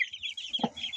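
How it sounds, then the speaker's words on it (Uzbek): Clucking from a group of eleven young chickens, with a couple of short, close calls standing out over a steady background chatter of softer peeps. "Bu yerda 11 ta jo'ja bor."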